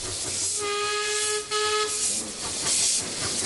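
A steam train whistle sounds a steady tone for about a second over a constant loud hiss of escaping steam, at a recreated timber township in Wauchope.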